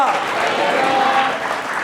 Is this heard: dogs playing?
no